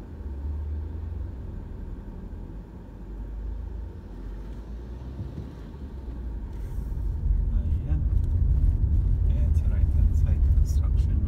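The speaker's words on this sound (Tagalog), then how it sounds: "Traffic din pala dito." Road traffic on a street in the UK beside a housing construction site, with a steady low rumble of cars passing that swells louder toward the end, under occasional talk.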